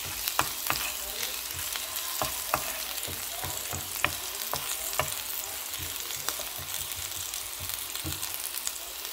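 Garlic frying in a pan for sisig, a steady hissing sizzle throughout with scattered sharp pops and occasional light clicks of a utensil.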